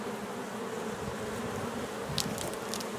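Honey bees hum steadily while a hive is opened for inspection without smoke, a dense close buzz that continues throughout, with a few sharper passes near the end.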